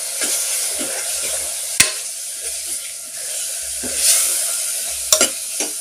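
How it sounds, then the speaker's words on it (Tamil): Spice powders, curry leaves and coriander leaves stir-frying in a pan for a double beans gravy, a close steady sizzle broken by sharp spoon clicks and low scraping strokes. "கருவேப்பிலை கொத்தமல்லி இலைகளையும் சேர்த்து விட்டு நல்லா பரட்டி விடலாம்"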